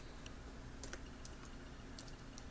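Typing on a computer keyboard, a few sparse, light key clicks in small clusters over a steady low hum, close and fairly quiet, with no voices.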